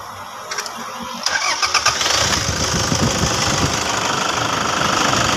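A Toyota Fortuner engine starts right after fresh oil and a new oil filter go in: a few sharp cranking bursts, then it catches and settles into a steady, fairly close idle with no voices.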